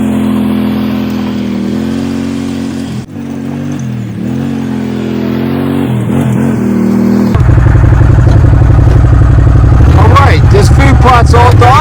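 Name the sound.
buggy driving over a food plot to pack the soil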